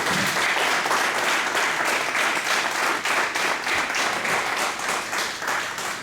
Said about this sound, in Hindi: आप लोग मेरे लिए इसलिए तालियां बजाते हैं